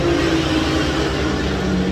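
Historic Formula 1 cars lapping the Paul Ricard circuit, heard as a continuous, fairly loud engine drone rolling across the grandstands without distinct passes.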